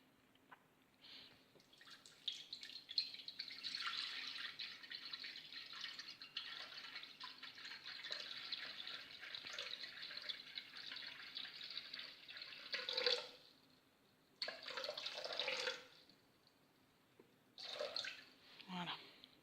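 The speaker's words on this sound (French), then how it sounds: "ajouter 800 g d'eau dans le bol" Water streams steadily into a Thermomix bowl, 800 g measured in, a soft continuous rush with a few brief breaks near the end; a person speaks quietly over it.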